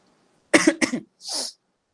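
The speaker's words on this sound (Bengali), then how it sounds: "সরি আমার একটু কাশি হইতেছে আর কি।" A person coughs twice in quick succession, then gives a breathy throat-clearing huff, close and clear against silence.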